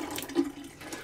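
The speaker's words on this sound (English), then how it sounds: "we're gonna turn on both the hot and cold valves at all of our faucets, showers, all that stuff" Water runs from opened hot and cold valves at household faucets and showers, a soft, steady rushing flow heard close by and alone, with slight fluctuations in level.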